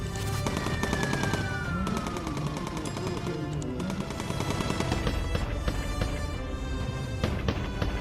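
Bomber turret guns in the Bomber Crew video game fire in rapid automatic bursts, a loud, dense rattle of gunfire that runs almost continuously, with a descending whistle and engine drone beneath.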